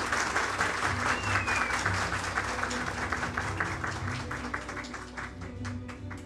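An audience in Istanbul applauds as Mayor Ekrem İmamoğlu is invited to the podium at the İSKİ Bakırköy branch opening. The clapping is steady and full, moderately near, and slowly fades toward the end.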